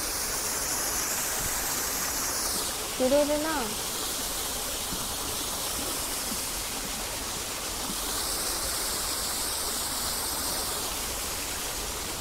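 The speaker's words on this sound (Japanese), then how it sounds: "ちっちゃい滝がある。" A small waterfall in Kinuta Park gives a steady, even rush of falling water that runs unbroken throughout, with a brief spoken remark near the start.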